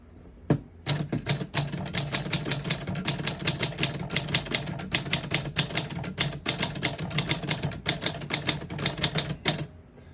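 A 1946 Smith-Corona Clipper portable typewriter types steadily, its keys striking in a rapid, even stream of sharp clacks, close and loud, ending with a pause after about ten seconds.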